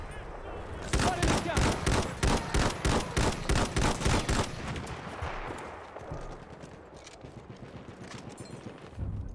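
Rapid bursts of automatic gunfire rattle loudly and evenly in Battlefield 1, a long volley of sharp shots that breaks off and gives way to rumbling battle noise and distant fire.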